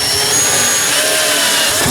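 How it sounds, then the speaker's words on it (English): A power drill bores drainage holes low in the side of a compost barrel, a loud, continuous whirring grind lasting the whole short stretch. "I'm just drilling the holes right low, the lowest you can go"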